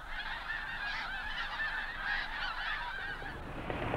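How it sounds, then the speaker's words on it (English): A flock of snow geese honks on the open tundra west of Hudson Bay, a dense, continuous overlapping chorus of calls heard at moderate distance, fairly faint, with no voices. "just before the snow geese arrive"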